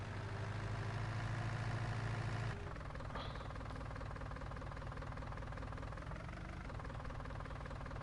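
A small tractor engine idles in Farming Simulator 19 on a pig farm, a steady low rumbling drone that shifts to a slightly different tone partway through, with no talking.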